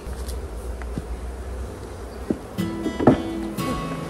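Honeybees buzz in a steady low drone from an opened hive while a new queen is placed among them, joined by a few brief thumps and clatter of hive parts near the end.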